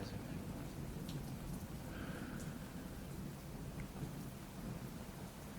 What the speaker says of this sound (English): You want to be laying under a downpour of rain, protected by your veranda.